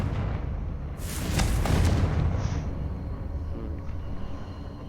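A Confringo fire spell blast in Hogwarts Legacy, a loud booming burst with a crackling high rush that swells and fades over a second or two above a steady low game rumble, with no voices.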